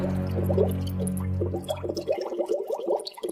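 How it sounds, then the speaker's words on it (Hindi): A person hung upside down is dunked into water in a comedy skit, with a low hum giving way to bubbling, gurgling splashes and no speech. "डुबा दो इसे पानी में"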